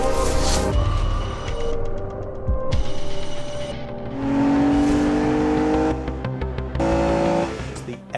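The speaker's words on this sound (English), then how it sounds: "Effortless performance from this 6-litre V12 engine." Aston Martin DB9 with a 6-litre V12 engine revving, a loud throaty roar with rising and falling pitch and several sharp blips, heard alongside music and other sounds.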